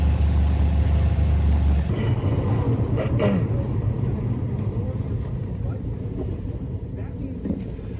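A 2013 BMW M3 Competition Package engine rumbles loudly at the start for about two seconds, then settles into a quieter, steady idle with some wind buffeting on the microphone.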